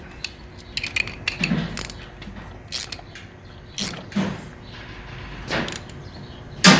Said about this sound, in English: Just take a ratchet.